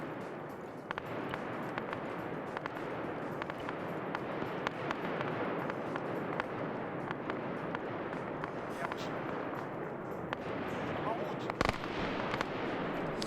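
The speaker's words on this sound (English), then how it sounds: "the sound of the mortar is what's going to attract them" Mortar fire in the Siege of Jadotville operation of a community military game comes as a steady stream of rapid distant thumps and crackling blasts, with a few louder bangs near the end, under a dense din of battle.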